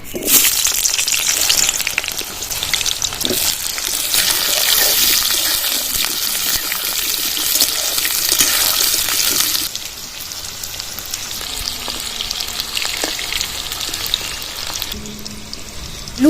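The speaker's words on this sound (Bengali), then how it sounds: "এবার কড়াইতে ছেড়ে দেব আলু" Potato pieces frying in hot mustard oil in a wok give a steady, loud, hissing sizzle throughout, softening slightly partway through as the oil settles.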